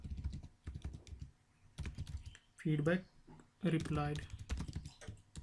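Computer keyboard keys clatter in quick bursts as code is typed, soft and close, interleaved with someone speaking.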